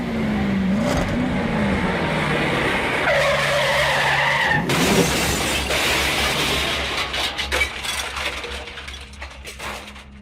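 A car accelerates and skids, tires squealing loudly over a rising engine, followed by a rough rumbling slide that gradually eases off, heard alone without voices.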